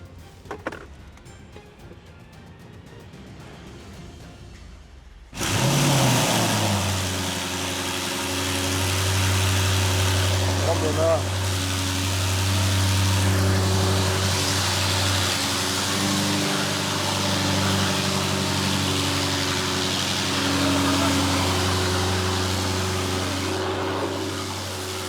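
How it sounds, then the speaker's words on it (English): Audi RS6 engine starting after a rebuild: quiet, then a sudden loud crank and catch, settling into a steady, deep idle that runs on with slight rises in revs. "I cannot believe the engine is finally on and we have a fully working and running RS6."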